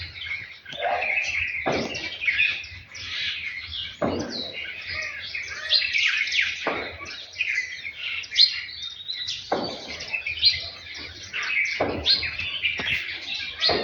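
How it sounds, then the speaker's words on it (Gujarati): Many sparrows chirp continuously in a quiet residential compound, a busy overlapping chorus of high tweets and calls with brief louder bursts, with no talking. "તમને સંભળાશે ચકલીઓનો અવાજ"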